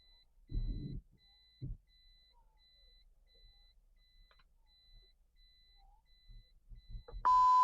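Faint, evenly spaced park assist warning beeps from a 2007 Toyota Prius repeat steadily in the background, with a few low thumps early on and a louder tone burst at the end.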